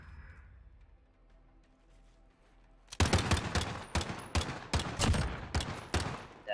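Rapid gunfire from a Call of Duty Search and Destroy match bursts in after three seconds of quiet game ambience, with loud, repeated shots continuing in uneven volleys to the end.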